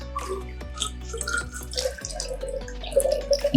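Water is poured from a solvent bottle into a beaker in a chemistry lab, giving close trickling and splashing with small drips and gurgles over a faint steady hum.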